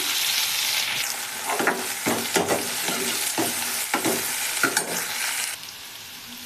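Green chillies roast with onions in a spice base for whole masoor dal, a steady sizzle punctuated by repeated stirring scrapes, then the frying drops quieter near the end; no one speaks.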